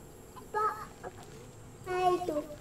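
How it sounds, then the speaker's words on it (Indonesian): Faint chicken clucks in the video game DayZ, two short bursts of squawky clucking heard at low volume against quiet background hiss. "Oh, itu suaranya ayam."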